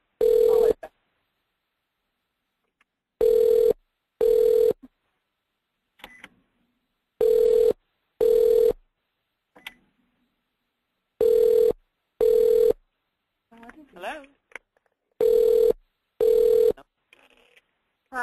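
A telephone left off the hook sounds a repeating electronic tone in short paired bursts separated by silences, loud and steady, with brief faint talk in some of the gaps.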